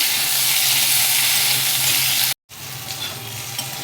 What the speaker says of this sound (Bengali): বরবটিটাকেও ভাজবো একটু।